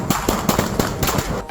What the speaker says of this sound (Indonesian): Letusan tembakan mewarnai penyergapan Ujang Saptudin umur 60 tahun